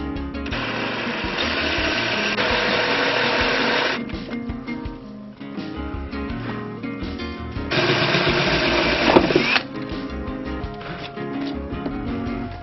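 Half-inch electric drill boring holes for a Goldwing GL1800 CB antenna mount, two sustained loud whining bursts with gritty grinding, separated by quieter handling noises.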